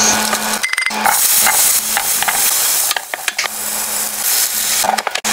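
Chicken pieces, hotdog and potatoes fry loudly in a pan, with a steady sizzle and repeated scraping stirs and clacks of a utensil against the pan throughout.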